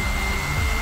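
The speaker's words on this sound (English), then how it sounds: "And a hair dryer" Hair dryer blowing steadily at close range while drying a scratched paint finish on a handmade sci-fi multi-tool film prop, a continuous loud whooshing hum with a slight pitch dip near the end.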